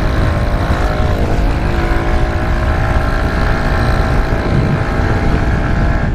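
A pit bike engine held at full throttle in its highest gear, giving a loud, steady, close buzzing drone that holds at a high pitch throughout without letting up.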